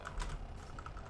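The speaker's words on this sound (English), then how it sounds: "keyboard slidey out thing that's on my desk" A sliding keyboard tray on a desk rattles and clacks in a quick series of close, light plastic knocks and scrapes, with no voices present.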